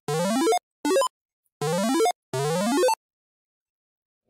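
Synth notes from Freeboy, a Nintendo Game Boy APU emulator in LMMS, play alone as four separate bright, buzzy tones with rich harmonics, each pitch stepping upward in a wavering tremolo, followed by silence.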